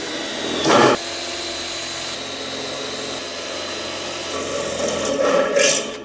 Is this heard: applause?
no